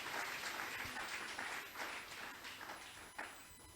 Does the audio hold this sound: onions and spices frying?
no